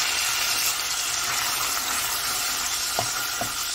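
Boiled onion frying with spices in a pan for a hilsa fish curry with bottle gourd, a steady close sizzle with a few soft stirring scrapes toward the end.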